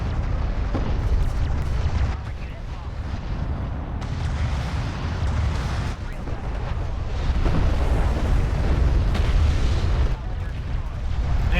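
Railguns firing in the real-time strategy game Homeworld: Deserts of Kharak, heavy booming blasts and rumbling impacts layered continuously over low battle noise, with a voice talking over them.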